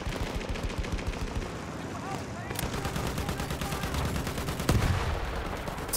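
Gunfire from the Battlefield 1 video game, dense and continuous with layered shots and bursts, a louder blast near the end, while a voice briefly speaks underneath.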